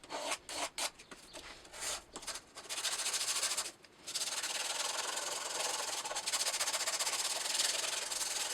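Small wooden triangles glued inside the edges of a wooden vinyl record rack are sanded by hand, first in short scratchy strokes and then in a continuous close rasping rub.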